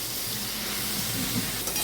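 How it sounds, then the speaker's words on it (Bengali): Mango pieces fry in a pan with turmeric and salt, a loud steady hissing sizzle with faint stirring underneath and no talk. "দেখো ফ্রাই হচ্ছে।"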